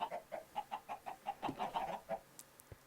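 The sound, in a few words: chickens clucking in a chicken farm, video game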